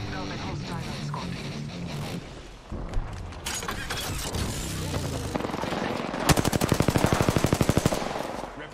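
Gunfire in the Apex Legends shooter game: bursts of weapon fire and impacts, ending in a rapid automatic-rifle stream, with game voices and effects mixed throughout.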